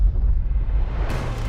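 The Castle Bravo thermonuclear test, a 15-megaton nuclear bomb, gives a heavy, sustained roaring blast, dense low rumble throughout with a harsher surge near the end.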